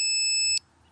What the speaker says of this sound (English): You could hear the beeps.